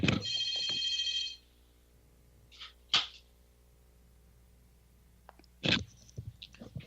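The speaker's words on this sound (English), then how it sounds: "What's that phone doing?" A telephone rings indoors in a motel room: a loud, bright electronic trill opens the clip and then cuts off, followed by a few short clicks and bumps as the handset is lifted off the hook.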